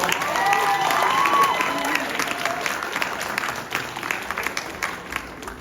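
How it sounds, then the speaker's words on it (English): A theatre audience at a Cinderella stage show applauds, with a few whoops and cheers early on. The dense clapping starts strong and gradually thins and quiets toward the end. "Please give a round of applause for Tavatino and Tavatino."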